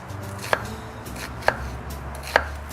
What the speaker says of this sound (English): So we're gonna make thin slices down across the onion like this.